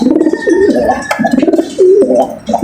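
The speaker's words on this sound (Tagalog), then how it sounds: "Nagpapa-cute pa to si babaeng bi pigeon mga kalapatids." Pigeons in a pairing cage give soft, rolling, repeated coos close up, with a few faint rustles between the calls.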